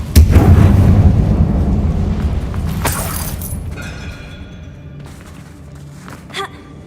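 A Confringo blasting spell detonates in a video game inside an abandoned mine: one loud, close boom opens, then a long rumbling decay with a sharp crack midway and faint scattered clatter fading out.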